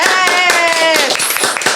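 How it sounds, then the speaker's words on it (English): Studio audience on a talk show clapping, a dense, close burst of applause with whoops and a voice cheering over it, lasting under two seconds. "Round of applause, people."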